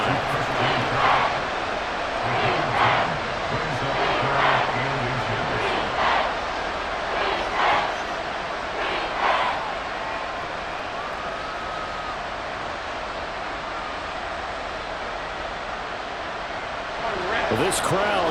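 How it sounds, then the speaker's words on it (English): Steady stadium crowd roar fills a Madden NFL 24 football game between the Dolphins and Jaguars, swelling as fans try to force a false start, with commentary talking over it throughout. "This crowd trying to force a false start here."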